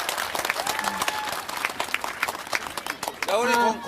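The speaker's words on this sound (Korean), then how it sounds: "큰 박수 부탁드리겠습니다" Audience applause for candidates at a Pyeongtaek political rally, continuous clapping with crowd noise and a voice over the loudspeaker rising near the end.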